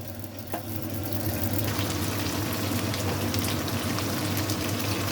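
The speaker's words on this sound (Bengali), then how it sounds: "ততক্ষণে আমি এদিকে দেখুন কাজু বাদাম, পোস্ত আর কাঁচা লঙ্কাটা একটু শুকনো খোলায় ভেজে নেব।" Cashews, poppy seeds and green chilies dry-roasting in a pan while pointed gourd fries nearby: a steady, dense sizzle and crackle fills the kitchen continuously and loudly, with no speech.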